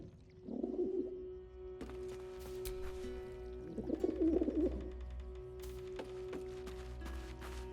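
Low, soft pigeon coos from the video game Baldur's Gate 3 sound twice, a few seconds apart, with quiet clicks and faint background noise between them.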